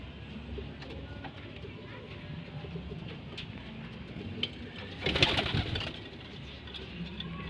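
Pigeons in a loft give soft, low cooing under continuous background noise, with a brief louder rustle partway through, the calls faint and steady rather than distinct.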